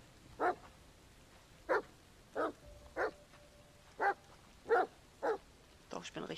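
A dog in the video game The Medium barks in a run of about eight evenly spaced, clear barks, ending in quicker yips, with no other sound around them.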